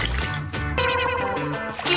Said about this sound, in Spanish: Sí, la sumerjo en el agua.